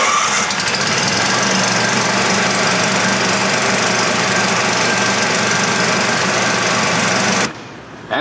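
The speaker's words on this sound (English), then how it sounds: "you are ready to start the gasoline engine" Gasoline engine of a Model 1200 fogging machine running, a loud, close, continuous rattling drone with rapid knocking that holds steady, then cuts out sharply near the end.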